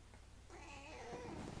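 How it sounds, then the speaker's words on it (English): A house cat lets out one drawn-out, wavering meow up close, starting after a brief quiet moment and holding for about a second. "Hey, kitty cat."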